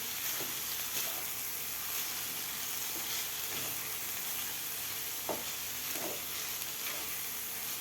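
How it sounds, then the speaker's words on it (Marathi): Grated paneer stirred into masala frying in a pan: a low, steady sizzle with intermittent soft scrapes of a spoon at irregular intervals, fairly quiet and close, with no voices. "पनीर घातल्यानंतर आपल्याला मिक्स करून घ्यायचं आहे।"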